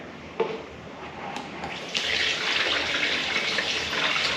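Metal Rescue rust-remover liquid poured into the fuel tank of a rare Kawasaki mini bike, a steady splashing gush that builds and fills as the stream runs into the metal tank, close up with no talking.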